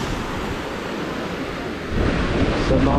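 Steady rush of Red Sea water and surf at a fishing spot, with wind buffeting the microphone, swelling slightly louder toward the end.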